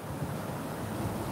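Steady wind rushes and buffets against the microphone outdoors at a bus stop, a low continuous roar with no pauses and no talking.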